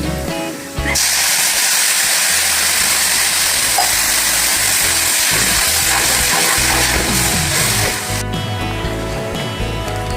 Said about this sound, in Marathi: आता ह्याला 2 उकळ्या काढून घेऊ.